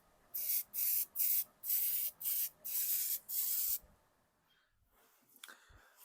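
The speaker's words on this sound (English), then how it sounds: "Little spray paint action here." Seven short bursts of aerosol spray paint hiss close up in a quick rhythm on a mountain bike suspension part, followed by quiet with a few faint clicks and rustles.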